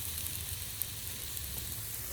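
Shrimp fried rice sizzles on a Camp Chef FTG600 flat top griddle, a soft, steady hiss of frying heard close up without talk.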